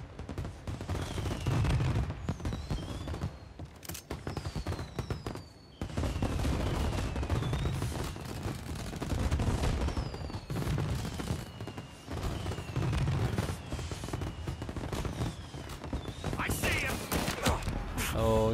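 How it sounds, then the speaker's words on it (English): Gunfire in the video game Mafia Definitive Edition, pistol and Tommy gun shots in a firefight: loud, repeated bursts and volleys across the whole stretch, with brief pauses and a voice talking over parts of it. "I'm actually more comfortable using the regular weapon, like the pistol, instead of Tommy gun."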